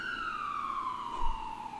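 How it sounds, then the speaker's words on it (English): An ambulance siren sound effect plays on a live stream as a steady, loud wail with a slowly falling pitch and bright harmonics, sustained throughout with no talk over it. "I'm assuming that an ambulance sound played just there."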